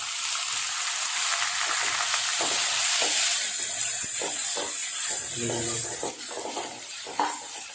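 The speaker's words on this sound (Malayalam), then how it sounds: "ഇഞ്ചി വെളുത്തുള്ളി നന്നായിട്ട് ഫ്രൈ ആയിട്ട് വന്നിട്ടുണ്ട്" Ginger and garlic sizzling in a hot pan, a continuous frying hiss broken by repeated scraping strokes of a spatula.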